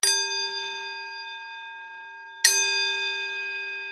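A meditation bell is struck twice, each strike a bright, clear ring with a long shimmering decay, the second strike coming about two and a half seconds after the first, close and alone.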